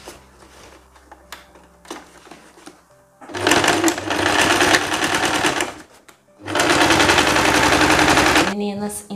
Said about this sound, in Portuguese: E a gente vai pegar agora pra costurar a parte da cintura.